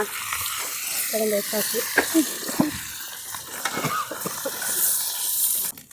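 Fish frying in hot oil gives a steady sizzle with occasional stirring clinks, and people talk nearby over the frying.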